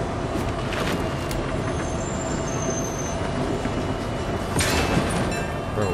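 A steady, loud rumbling roar of a train running along in Fortnite, with faint metallic squeals and a brief rise in clatter near the end.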